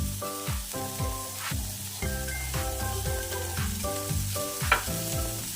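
Prawns sizzle and crackle in hot oil, steady and close, with a faint tonal hum running underneath and no voices.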